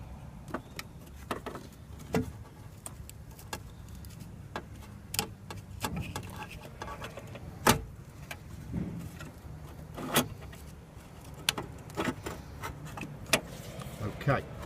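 Plastic electrical connectors are unplugged one by one from a car ECU, giving sharp, scattered clicks and snaps at close range amid quiet rustling and handling of the harness.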